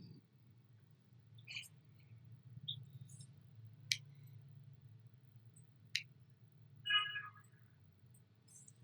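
A few sharp, isolated computer mouse clicks sound at irregular moments, faint and dry over a low steady hum, with no talking.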